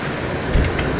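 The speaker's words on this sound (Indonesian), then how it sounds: "Karena hujan nih, biasa turun hujan deras di luar." Heavy rain pours outside over a sheet-metal spandek roof, a steady dense wash of noise with one brief low thump midway, no voices.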